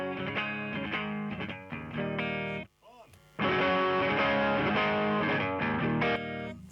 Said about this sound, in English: we've got the Rimrock Effects Mythical Overdrive Jazzmaster Clean